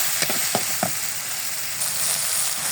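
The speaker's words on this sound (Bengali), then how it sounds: "মশলাটা ভালোভাবে আমি কষিয়ে নেব" Biryani spice paste with cumin paste and nut paste fries in a pan for chicken biryani, giving a dense, continuous sizzle with a few quick stirring scrapes near the start.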